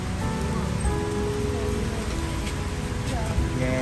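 Rain falling steadily during a motorbike ride, a dense close patter of drops on surfaces with continuous hiss and scattered heavier splats, unbroken throughout.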